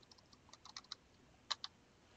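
Quick, light keystrokes on a computer keyboard while working in a spreadsheet: a quiet, irregular run of clicks with a short pause, then a couple of sharper taps near the end.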